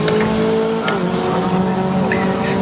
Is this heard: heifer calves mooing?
no